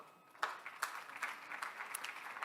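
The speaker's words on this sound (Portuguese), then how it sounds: "Que palmas estão um pouco vigorosas" Brief burst of audience applause at a public health participation session, starting abruptly after a quiet moment, moderately loud clapping heard from a slight distance.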